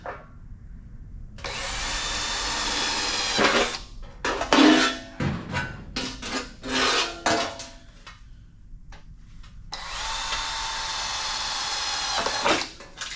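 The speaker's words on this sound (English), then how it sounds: "Drill a few holes." A power drill whines in two long bursts while drilling holes in sheet metal on a car cowl section, with a series of short choppy drilling spurts and clanks between them, loud and close.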